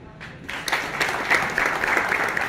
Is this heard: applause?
yes